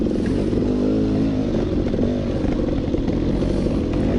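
A dirt bike engine runs steadily on a mountain trail in Taylor Park, Colorado, its rejetted motor droning loud and close with rough clattering over the terrain throughout, and no talk.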